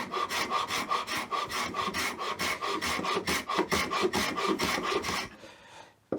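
Rhythmic rasping strokes of a file or rasp smoothing the end grain of a wooden board, steady back-and-forth scraping close up for about five seconds, then stopping abruptly.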